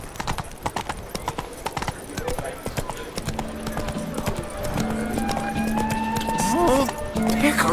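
Roach the horse trotting in The Witcher 3: Blood and Wine, steady clip-clop hoofbeats up close with a snort near the end, under game music and a voice talking.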